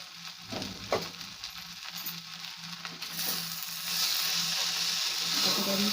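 Malvani-style okra bhaji with kokum sizzles in a pan while it is stirred, with soft scrapes and clinks over a frying hiss that grows fuller and louder toward the end.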